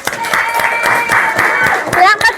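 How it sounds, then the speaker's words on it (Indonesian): Applause for a contestant ranked third at a small event, a short, even burst of clapping from a modest crowd with a voice rising over it near the end. "Berikan tepuk tangan untuk yang nomor 3 Mbak Jessi"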